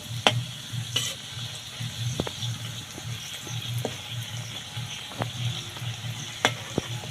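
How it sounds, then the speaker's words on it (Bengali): Pitha cakes made with ripe palm fruit deep-fry in oil with a steady close sizzle, broken by sharp clicks and taps from a utensil turning them, and no talking. "তাড়াতাড়ি খুব তাড়াতাড়ি এগুলো ভাজা হয়ে যায়"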